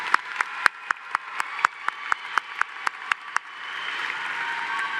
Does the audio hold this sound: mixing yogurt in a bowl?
no